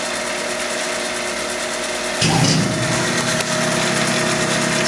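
Tormach PCNC 1100 Duality lathe turning 6061-T6 aluminium at 500 RPM with a 2 inch-per-minute feed and 10 thousandths depth of cut, producing a loud, steady machine whine that grows rougher and louder midway as the interrupted cut bites, with no speech.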